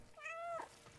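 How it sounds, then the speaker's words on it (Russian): A single clear cat meow from the video game Stray, short and close, rising and then falling, with no talk over it. "Мяу."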